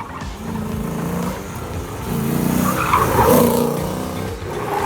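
An import car driven hard at a gymkhana autocross clinic: loud, close tire squeal and skidding rise over a revving engine and stay prominent throughout.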